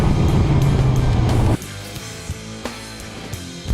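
A 1965 Shelby GT350 engine drones loudly and steadily, then the roar drops away abruptly, leaving a quieter low rumble with a few faint knocks.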